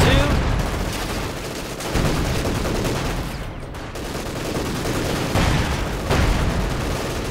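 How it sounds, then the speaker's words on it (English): A Panzer IV tank firing its machine gun in a war video game: loud, dense bursts of gunfire with heavy low rumble, brief pauses between volleys, and a voice talking over part of it. "But now the Panzer IV setting up here to shoot and destroy it. While machine gunning anyone close to."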